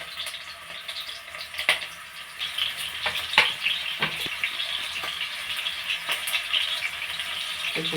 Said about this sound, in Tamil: கொஞ்சம் நல்லா ஃப்ரை பண்ணிக்கலாம்.